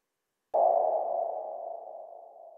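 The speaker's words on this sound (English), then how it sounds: "From buzzing alarms to beeping gadgets, this collection adds a touch of humor and irritation to your content" A single electronic gadget tone sound effect starts abruptly and holds steady for about two seconds, slowly fading in loudness, heard alone against silence.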